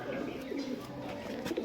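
Pigeons coo softly in a home loft, low throaty murmurs overlapping with faint background rustle and distant noise, quiet and brief.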